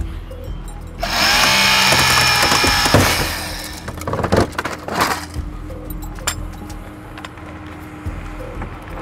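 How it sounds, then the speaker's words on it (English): An AMKUS hydraulic rescue tool works at a car door hinge during extrication training, giving a loud, harsh mechanical grinding that holds steady for about two seconds, then breaks into sharp cracking and popping bursts as the metal gives. "Set it in there where you want it and then move the tool and then turn your tool on"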